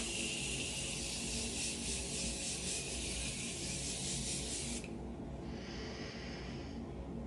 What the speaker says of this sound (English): I'm gonna go ahead and set my face using my Morphe Continuous Mist